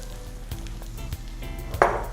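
Rice toasts in a pan for coconut curry rice, giving a faint low sizzle with a few soft stirring knocks, and a brief brighter scrape near the end.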